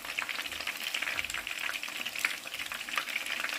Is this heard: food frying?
yes